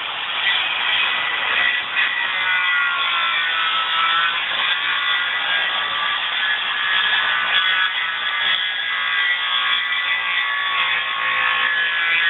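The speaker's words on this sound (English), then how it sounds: "Cut the shoulders on these panels." A saw cutting the shoulders on wooden panels for traditional joinery, a steady continuous rasping stroke that runs without a break, close and loud, with no voices.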